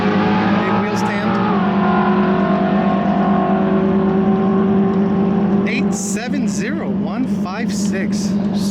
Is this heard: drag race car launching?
yes